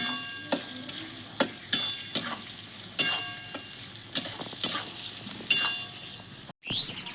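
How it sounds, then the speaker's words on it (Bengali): Chopped onions fry in hot oil in a steady, quiet sizzle, broken by sharp intermittent clicks of a spoon stirring against the pan, with no talking. "পেঁয়াজটা একটু ভাজা ভাজা করে নেব।"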